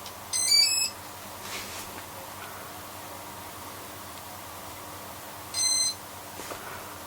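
A series of bright electronic beeps sounds twice at power-on of a drone speed controller on an original 2012 KK1 flight board build, short bursts separated by several seconds over steady low background hum.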